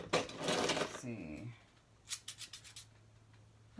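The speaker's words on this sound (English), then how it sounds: "Let's cut those out with some, I don't know, scissors." Scissors snip through paper while cutting out recycled Christmas tags, a quick run of crisp cuts following a brief stretch of talking, close and clear.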